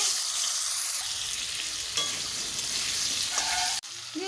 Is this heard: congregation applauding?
no